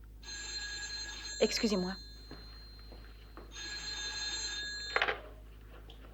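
An old-fashioned telephone bell rings in two long bursts, close and loud, with someone speaking briefly over the end of the first ring.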